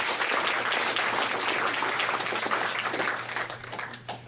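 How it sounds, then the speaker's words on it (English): An audience claps at an indoor event, dense and sustained applause that gradually thins and scatters into a few last claps toward the end. "Let's give them a big round of applause."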